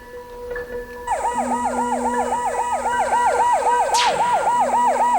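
Emergency rescue vehicle siren wailing in a fast, repeating up-and-down cycle during a search for a car fallen into a valley, loud and sustained, with a brief sharp sweep of another sound near the end.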